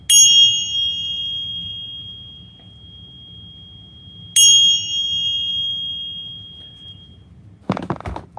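Two bright metallic bell strikes, each ringing out with a long sustaining tone, the second about four seconds after the first, followed by a short burst of clattering noise at the end; no talking.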